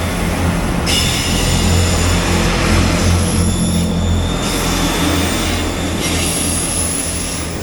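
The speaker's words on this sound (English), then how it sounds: "Always nice to see a train going by." A train rumbles past close by at a station in Newtown, Powys, Wales, a loud, sustained roar of wheels on rails with metallic squeals rising and fading throughout.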